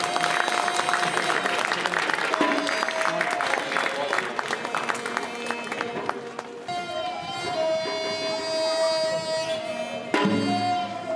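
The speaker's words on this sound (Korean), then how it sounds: "큰 박수 부탁드리겠습니다." Guests clap at a traditional Korean wedding ceremony. The applause is dense and sustained, with tonal background sound running underneath, and it swells again near the end.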